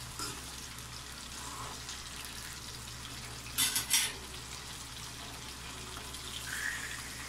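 Oil spattering and sizzling in a pan as galunggong fish and vegetables fry, a steady low crackle with a brief louder burst of spitting midway, fairly quiet and close.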